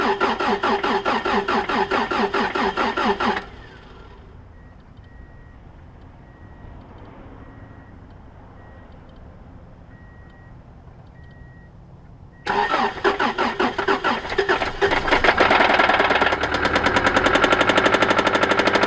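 A car with a completely dead battery, boosted by a Tacklife T6 jump starter after a freezing night, cranks with a rapid rattling starter whir, pauses in near silence, then cranks loudly again and catches into a running engine.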